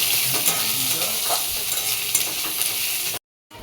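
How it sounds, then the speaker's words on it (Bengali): Chopped onions fry in a hot pan with cumin seeds, making a dense close sizzle with occasional stirring scrapes before it cuts off briefly near the end. "দিয়ে দিলাম কোটানো পেঁয়াজ পেঁয়াজগুলো একটু ভালো করে ভেজে নেব"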